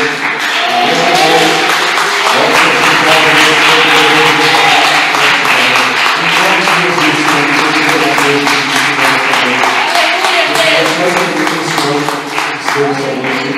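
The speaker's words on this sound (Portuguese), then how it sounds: "Aplauda ao Senhor" A church congregation applauds during a worship service, with rhythmic group clapping running throughout under sustained musical tones and voices.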